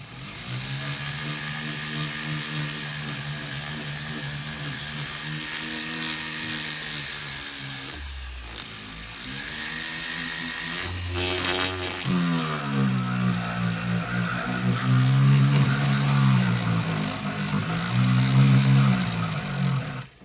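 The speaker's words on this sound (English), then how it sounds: "So if I can just reach for my noisy flexi drive again." A flexible-shaft rotary tool polishes the inside of a metal bangle, a continuous whining motor with wavering pitch, brief pauses and speed changes throughout, heard close and alone.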